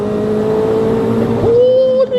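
A turbocharged Suzuki Baleno Classic with over 200 hp accelerates hard, its engine note rising in a loud, climbing drone heard from close by, then easing briefly near the end.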